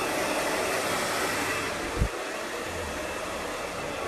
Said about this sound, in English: And we keep blow drying it.